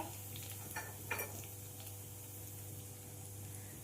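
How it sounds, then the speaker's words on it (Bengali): Whole cumin seeds and a bay leaf dropped into hot oil in a pan give a soft, steady sizzle, with a couple of brief utensil clinks near the start. "তেল গরম হয়ে গেছে। এবার আমি তেলের মধ্যে 1 চামচ গোটা জিরে দিয়ে দিলাম, একটা তেজপাতা"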